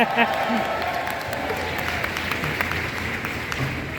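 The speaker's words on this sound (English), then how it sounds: "mentioning different projects and having people cheer for you" An audience at a fan convention panel claps and cheers steadily for several seconds, a dense wash of applause with scattered whoops and voices mixed in.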